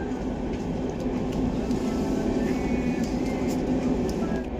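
A sleeper train on the Katra–Srinagar line in Kashmir runs through a tunnel, making a steady, enclosed low rumble with faint clicking over the rails, unbroken throughout.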